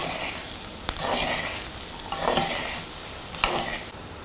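Okra stir-frying in a pan with half-cooked onions and green chilies gives a steady close sizzle, broken by three sharp scraping stirs spaced about a second apart, with no voice.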